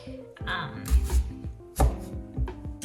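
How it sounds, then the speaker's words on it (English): A knife chops through potatoes on a cutting board in several firm, uneven thunks, close and clear with no talking. "I'm going to cut up 6 potatoes"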